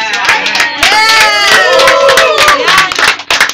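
Studio audience cheering and clapping at a talent show, a loud crowd roar with whoops and rising shouts over dense applause, lasting several seconds.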